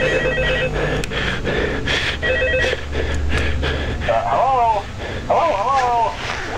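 Telephone ringing in the horror video game Ultimate Custom Night, a repeated electronic ring with warbling tones that continues through the clip under constant talk and game noise.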